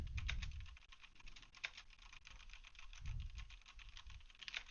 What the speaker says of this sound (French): On passe au test du clavier avec le Corsair K70, équipé de switch MX Red